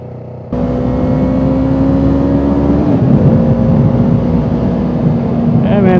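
A Yamaha R3 sport bike kicks in abruptly and accelerates with a sustained rising engine whine, then shifts and keeps pulling, loud and close, as wind rushes past.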